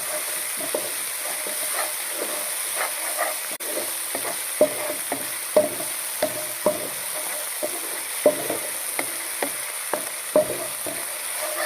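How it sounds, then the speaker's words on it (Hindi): Green chili paste and cumin powder fry in a pan, a steady, close sizzle with regular clicks and scrapes from stirring and no voices. "इसके अंदर ये मैं हरी मिर्चों का पेस्ट डाल दूँगा और ये ज़ीरा पाउडर डाल दूँगा। इसको भी मैं थोड़ा सा फ्राई कर लूँगा।"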